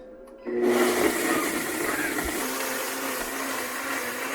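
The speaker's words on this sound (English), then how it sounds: "Then we're going to start this blender going." A kitchen blender powered through an RV inverter starts up after a brief quiet moment, then runs loud and steady with a constant whirring drone, with no talking over it.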